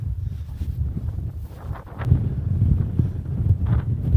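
Cold wind on a frosty mountain in the UK, a steady low rumbling buffet against the microphone that swells and gusts throughout, with no voices.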